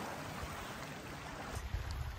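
Gentle water lapping at the rocky shore of the Grotto on the Bruce Peninsula, a soft continuous wash with breezy outdoor ambience and a slightly stronger splash near the end.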